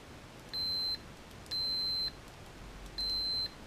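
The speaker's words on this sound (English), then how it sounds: "We want to do a little beep testing." Three evenly spaced, clean high-pitched test beeps, each about half a second long, sound during bench testing of a Sunn Spectrum 1 amplifier, with low hum between them.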